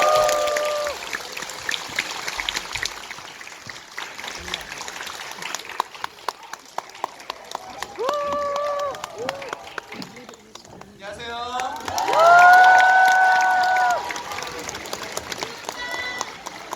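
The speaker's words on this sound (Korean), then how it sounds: "김혜수, 유아인, 허준호, 조한철 씨 큰 박수로 맞이해주세요." A theater audience at a live film talk event claps as actors walk on stage, a light rain of scattered hand claps beneath a host speaking over a microphone, with a swell of music partway through.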